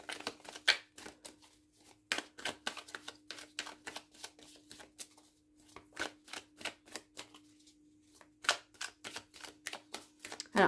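A deck of tarot cards being shuffled, with rapid papery riffles and card slaps repeating in quick bursts over about ten seconds, close and fairly quiet, with a steady low hum underneath.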